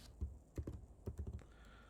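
Keystrokes on a computer keyboard while an XPath locator is typed, a quiet, close series of soft clicks in short irregular bursts with brief gaps between them.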